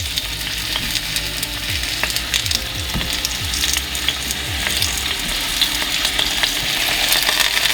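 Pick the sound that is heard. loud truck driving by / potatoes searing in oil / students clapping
potatoes searing in oil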